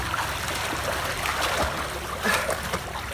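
Water splashing and churning from backstroke swimming in a pool, arms scooping and legs kicking, a steady continuous wash of splashes with a few stronger surges, close by and without speech.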